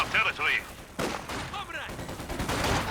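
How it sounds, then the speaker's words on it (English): Machine gun fire in Company of Heroes 2, a 2v2 battle, comes as sharp bursts of gunfire and impacts mixed with other game effects, with a voice speaking over the action. "You have to run in and get suppressed by the machine guns."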